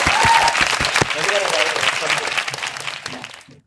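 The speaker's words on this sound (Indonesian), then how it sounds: "Tepuk tangannya dulu." Audience applause welcoming a guest onto a podcast stage: strong clapping at first, thinning and tapering off over a few seconds, with a voice talking over it as it dies away.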